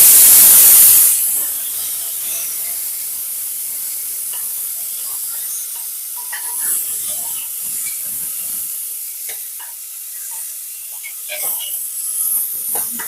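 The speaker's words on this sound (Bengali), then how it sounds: "এর মধ্যে এবার দিয়ে দেব কুচিয়ে রাখা পেঁয়াজ" Chopped onions hit hot oil with bay leaves, cracked cardamom, cinnamon and cloves for khichdi, a loud burst of sizzle that settles into a steady close hiss with occasional stirring.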